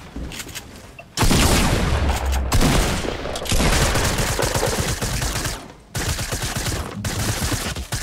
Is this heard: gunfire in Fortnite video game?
yes